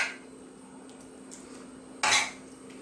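A spoon scraping and clinking against a bowl while cooked shell pasta gets a helping of beef sauce, one short bright clatter standing out against a quiet kitchen background.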